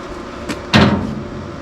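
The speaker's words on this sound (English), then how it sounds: "So let's see how the door's shutting now" A car door is swung shut during subframe and door alignment work in a garage, giving a softer tap followed by a solid, close thump that fades into low room noise.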